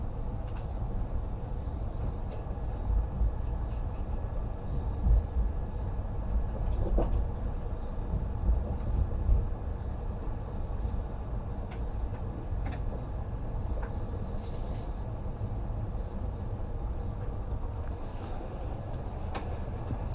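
The Patna Kota Express rushing past, heard from aboard the moving Tejas Rajdhani Express, a continuous loud low rumble and rattle of wheels and carriages lasting the full stretch with no talk.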